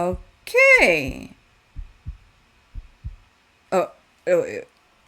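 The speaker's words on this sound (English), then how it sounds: "that's a heartbeat." A heartbeat from an album track thumps in two soft double beats, low and muffled, between louder vocal phrases at the start and end.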